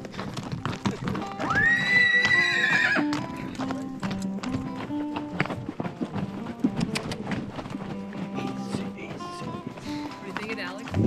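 Horses on a ride up a mountain: one lets out a loud, close whinny early on, followed by steady clip-clopping hooves while riders talk over them.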